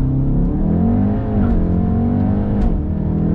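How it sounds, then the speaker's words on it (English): An MK7.5 VW Golf R launching hard from a standstill on launch control, a loud, close engine roar climbing steadily in pitch through the run with a brief shift dip, no talking. "give it full gas, launch control active, launching."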